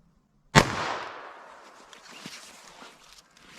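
A single sharp .22 Long Rifle gunshot fired into ballistic gel, loud and close, followed by a long decaying rumble and faint shuffling noise afterward; no one speaks.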